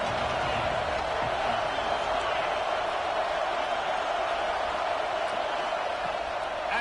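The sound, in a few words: stadium crowd noise at a football game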